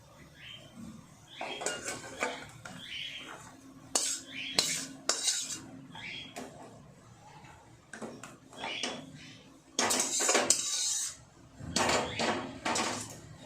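Bitter gourd and potato curry with lentil fritters being scooped out of a pan, a run of sharp spoon-on-metal scrapes and clatters in irregular bursts, close and fairly loud.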